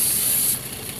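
A spray bottle loaded with betel leaf solution gives one short, close, hissing burst onto a quail, lasting about half a second before fading to quiet room tone.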